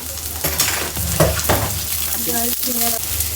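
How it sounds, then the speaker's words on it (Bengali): Onion, garlic and dried chillies frying in a pan give a close, steady sizzle, with stirring strokes scraping through it and a brief spike near the end. "একটু পেঁয়াজ রসুন শুকনো মরিচ ভেজে নিচ্ছি"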